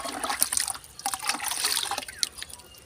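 Cow dung mixed into water outdoors for potato growing. Close, irregular sloshing and trickling splashes repeat as the mixture is stirred, at a fairly soft level and without speech.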